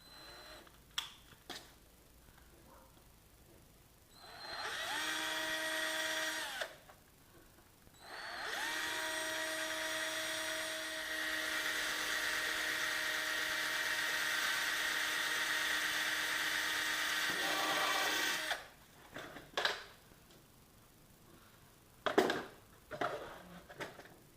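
A power drill drives screws into a Wunderlich mudguard extender in two steady whirring runs. The first is short and the second is long and sustained, with faint clicks and handling noises around them.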